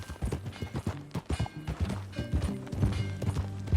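Horse hooves clip-clop in a steady ride through Red Dead Redemption 2, the rhythmic footfalls mixed with game music and the creak of tack, continuous and close throughout.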